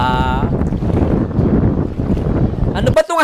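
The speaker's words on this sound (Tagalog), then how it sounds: "Ano ba itong hangin na ito?" Gusty wind buffets a microphone outdoors at sea on a boat, a low rumbling roar that rises and falls. People's voices can be heard talking through it.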